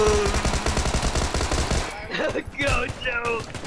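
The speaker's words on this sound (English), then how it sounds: "I can just hear the shots." Rapid bursts of gunfire from the PUBG video game crackle densely for the first couple of seconds, then give way to people talking with a few sharper sounds between words.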